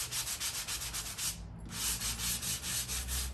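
Close, steady rhythmic rasping as decoupage paper is sanded along its edge, quick back-and-forth strokes with a brief pause midway before resuming.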